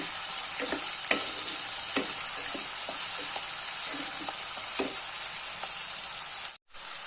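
Chopped onion being sautéed in a pan for spicy mutton keema: a constant bright frying hiss with scattered soft spatula scrapes, close by, cutting out for a moment near the end, with no talking.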